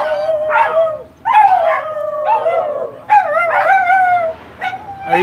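Dogs in a garden howl and bark at cats, rising and falling howls with yips and whimpers, loud and close, coming in several long bursts.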